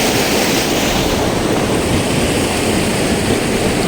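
Steady broadband rush of a river flowing beneath a bridge, continuous and fairly loud with no voices, the water noise filling the whole stretch evenly.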